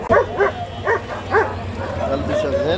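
Several short guard dog barks or yips at a Friday dog market in Egypt in a loose series, fairly close, followed by softer whining sounds over a low background hum.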